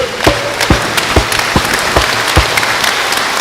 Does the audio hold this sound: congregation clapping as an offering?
yes